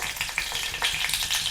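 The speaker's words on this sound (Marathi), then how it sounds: "याच्यामध्ये फोडणीला मोहरी टाकून घेते, थोडीशी जिरे घालते" Mustard seeds and cumin dropped into hot oil in a kadhai for tempering, a close, bright crackling sizzle with quick popping bursts throughout.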